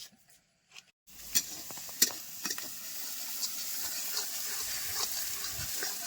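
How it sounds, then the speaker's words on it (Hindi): Onions and masala sizzle in a hot kadhai with a steady hiss and occasional stirring clinks and scrapes, starting abruptly after a brief quiet moment and continuing close by. "और देखिए यही प्याज इसमें भूनेंगे"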